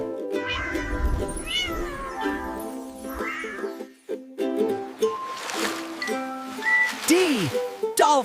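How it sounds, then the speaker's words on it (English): A cat meows several times in drawn-out, rising and falling calls, close and fairly loud, with brief pauses between and a faint splashing sound early on. "C for cat."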